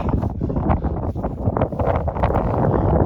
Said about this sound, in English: This blasted cold, high wind.